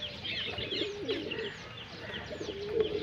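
Pigeons coo repeatedly at a loft where chicks are kept, with soft throaty notes and a few light chirps overlapping close by against a steady background.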